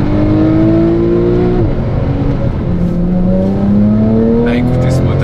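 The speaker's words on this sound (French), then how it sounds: "Bah écoutez ce moteur." Porsche 911 Carrera GTS engine with a first-generation PDK gearbox and a BMC air filter, revving loud and close with rising and falling pitch sweeps as it accelerates and shifts, intake noise audible, a voice talking over it.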